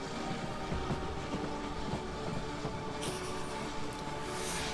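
A train rolls along in the Selma and the Wisp video game, a continuous dense rumble with rhythmic clickety-clack of wheels on track and brief hissing bursts near the end, heard alone without talk.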